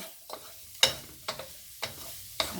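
Onion is being mixed in a frying pan, heard as a soft, faint sizzle broken by five or six sharp scraping strokes of a utensil at a steady rhythm, close and without talk.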